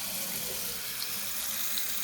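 Water runs from a bathroom sink tap in an updated one-bedroom apartment, a steady hissing stream that holds evenly for a couple of seconds with no talking.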